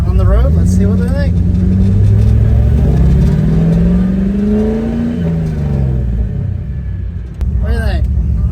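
V8 Mopar engine swapped into a Volvo, revving as the car drives on the road, a loud rising and falling rumble that carries on under continuous talking and laughter from people riding along.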